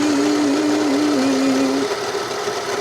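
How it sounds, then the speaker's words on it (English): An overlocker serger sewing machine runs steadily for nearly two seconds with a droning motor whine, close and loud, then stops and leaves a room hum. "When you jump on the overlocker, you test it and you don't need to do nothing."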